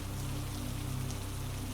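Rain pattering on a monastery roof and into its courtyard makes a soft, dense hiss of drops with a low steady hum beneath, a short continuous wash with no voices.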